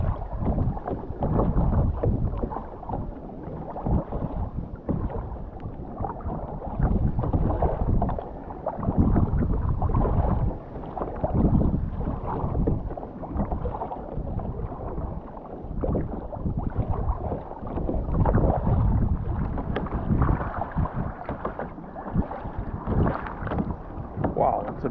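Kayak paddling on open sea water near Donut Island off Whangamata, with steady splashing and gurgling strokes close by, buffeted by heavy wind noise on the microphone throughout.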